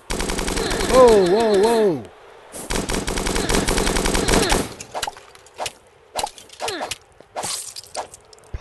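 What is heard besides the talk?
gunfire from soldiers in the video game Starbound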